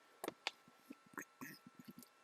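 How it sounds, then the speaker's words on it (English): Someone gulps spring water in a few quick, wet swallows, with soft squishy mouth and throat sounds close to the mic in otherwise quiet surroundings. "I'm just gonna hydrate real quick."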